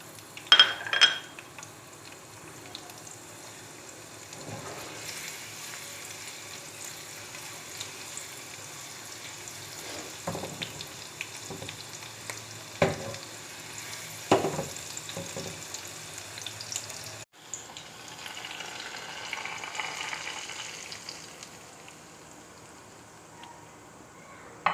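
Ginger and green chillies fry in a pan for a pumpkin and meat curry, with a soft continuous sizzle broken by occasional stirring clinks and a brief change in tone near the end.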